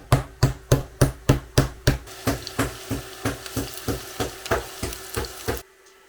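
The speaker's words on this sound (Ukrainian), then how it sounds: "І поки смажиться цибуля, ми тим часом вже починаємо бити наші відбивні." A meat mallet pounds pork chops on a board, about fourteen sharp, even thuds in quick succession, loud at first then a little softer, while onion sizzles in a frying pan underneath.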